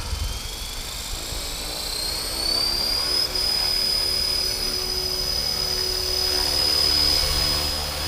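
A Horizon Hobby Blade 330S radio-controlled helicopter flies at a park, giving off a steady whining rotor and motor drone whose pitch climbs smoothly and then holds, heard nearby with wind rumble underneath.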